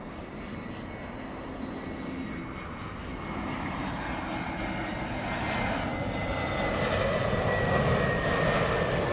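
A heavy jet airliner takes off from runway 24 right at LAX, its engine roar a broad continuous rumble that builds gradually and stays loud throughout.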